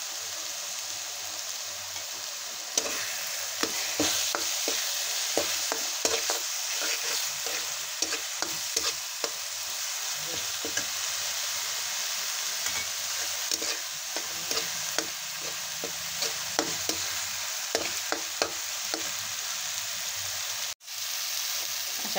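Curry leaves sautéing in hot oil for misal, a continuous dense crackling sizzle with frequent sharp spatula scrapes and taps against the pan, close and steady throughout.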